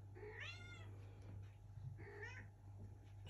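Black cat meowing twice, a pair of clear drawn-out meows close to the microphone over a low steady background hum, with no talking.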